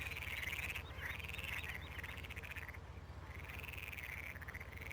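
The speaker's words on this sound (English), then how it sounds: "Hear the frogs and all the other background sounds here." Frogs croak in repeated warbling bursts over a constant low background hum on a farm map in a video game, the calls faint and fairly distant with no talking.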